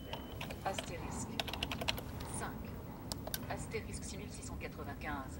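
Steady typing on an AZERTY computer keyboard paired with a switchboard, a fast run of clicky keystrokes heard fairly close under a continuous murmur of background talk.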